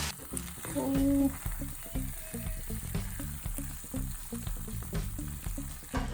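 Ground round in sauce simmers and sizzles steadily in a pan, a close, continuous crackling bubble with a few soft stirring clatters, no voices.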